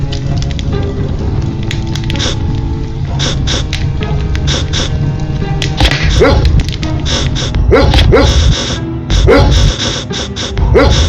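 A Kangal dog in the video game Age of Sivas barks repeatedly in irregular bursts, loud and close over a busy game soundscape with crackling fire and background noise.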